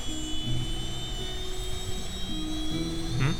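Jet engines in the Kerbal Space Program video game hum at about 20% power, a steady low drone with a high whine running through it, faint and constant with some tonal shifts.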